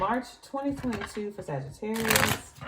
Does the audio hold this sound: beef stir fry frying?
no